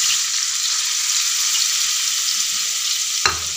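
Ground biscuits cooking in melted butter in a pan over a low flame give a loud, steady, even sizzling hiss throughout, with one brief knock of a utensil near the end.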